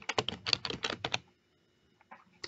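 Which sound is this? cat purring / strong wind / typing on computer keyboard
typing on computer keyboard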